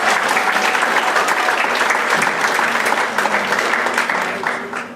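Audience applause for a judge at a Madison Idol 2019 singing competition: steady, dense clapping from a sizable crowd that holds strong for about four seconds before starting to taper off.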